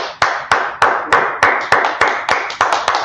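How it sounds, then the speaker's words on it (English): A single pair of hands claps in a steady rhythm at a Tuesday brotherhood Bible class, about ten sharp, close claps evenly spaced with no other sound between them. "Let's clap it up."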